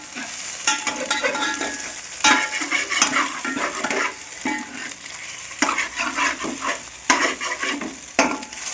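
Pieces of chicken frying for fried rice are stirred in a pan, a loud continuous sizzle punctuated by rhythmic scrapes and clanks of a utensil against metal, close up with no voices.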